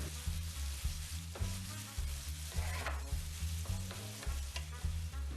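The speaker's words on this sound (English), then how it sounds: "add the remaining onions and fry for about 3 minutes" Onions fry and sizzle steadily in a pan, close up, with frequent stirring scrapes that come in a loose rhythm over the continuous hiss. No voices.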